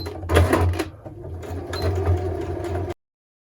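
Sewing machine stitching tricoline cotton to tricoline at a 2.2 stitch length, a close, steady mechanical whirring with rhythmic needle clatter that pauses briefly, then runs again and stops abruptly.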